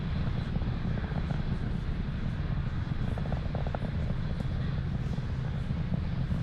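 A SpaceX Falcon 9 rocket climbs during a Starlink launch, its engines a distant, steady low roar with broadband rumble that persists without a break and without speech.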